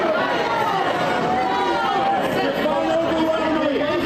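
A congressional town hall crowd in a noisy uproar, many overlapping voices shouting and chattering together in a loud, continuous roar that never lets up.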